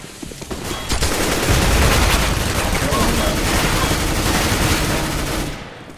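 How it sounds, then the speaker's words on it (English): In a CS:GO match, a thrown decoy grenade fakes gunfire with a dense, sustained burst of rapid shots that holds for about four seconds before cutting off. Game ambience sits faintly underneath. "Throwing the decoy."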